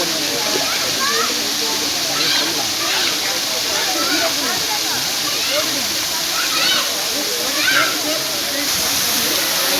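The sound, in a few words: Kothayar waterfall rushing water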